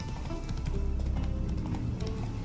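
Rapid clip-clop of horse hooves trotting steadily at close range in the video game Witcher 3: Wild Hunt, with a brief whinny-like sound over a low rumbling background.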